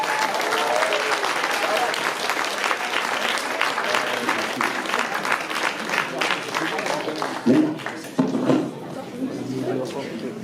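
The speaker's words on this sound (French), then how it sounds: "Sabine Fichera, que je demande d'applaudir vraiment fort." A crowd at the Printemps des Poètes 2022 presentation in Vence applauds loudly for Sabine Fichera. The clapping stays sustained throughout while voices murmur beneath it.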